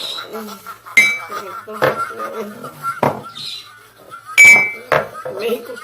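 Glasses and dishes clink together in a toast, with several sharp chimes and rattles spread across a few seconds while people talk and laugh close by.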